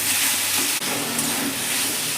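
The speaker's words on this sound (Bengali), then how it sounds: "নেড়ে দেবো এবার" Tomatoes cooking in a pan for a fish egg curry hiss with a continuous close sizzle, one sharp utensil tap partway through as they are stirred, no voices.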